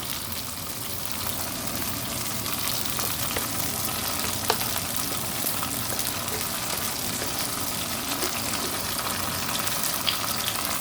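Liquor poured into a hot pan while cooking a Taiwanese-style dish, a loud, steady sizzle and hiss that holds evenly throughout with faint bubbling.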